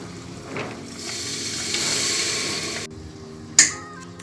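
Soaked toor dal drops into hot masala in a pan, a bright sizzle that swells and fades over a couple of seconds, followed by a sharp clink of utensil on metal near the end.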